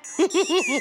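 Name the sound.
notification alert sound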